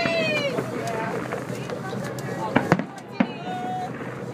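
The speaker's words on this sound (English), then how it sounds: "Everybody check out the fireworks." Fireworks go off in the distance at a public celebration, several sharp pops and crackles standing out over steady crowd noise and murmuring voices.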